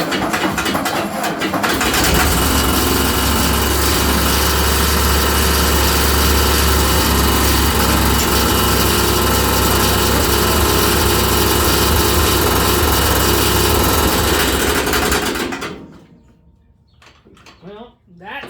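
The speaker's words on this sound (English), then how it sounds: "It fired, but it's the fan blade is hitting something, and I got a leak." A small engine fires up at about half throttle with choke on, then runs loud and steady while its fan blade strikes something, producing a harsh continuous rattle before it cuts out abruptly; a faint voice follows afterward.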